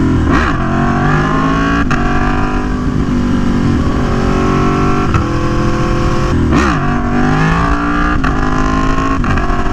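Aprilia Tuono V4 1100 Factory motorcycle engine revs loud and close, rising and falling with throttle blips and gear changes over a steady roar, no talking.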